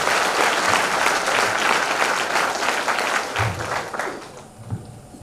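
An indoor audience at a Safe Shop session at the Atlantis Resort in Guntur claps loudly and steadily, the applause thinning out in the last second.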